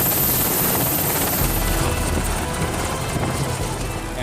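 An MH-60 Romeo naval helicopter flies overhead with a steady, loud broadband rotor and turbine roar that holds throughout, no voices over it.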